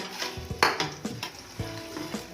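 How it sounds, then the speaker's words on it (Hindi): Onions stir and sizzle in hot ghee in a pan, with a soft frying hiss broken by scraping and clinking from a spoon against the metal, close and quiet. "और अब इसके अंदर प्याज शामिल करेंगे"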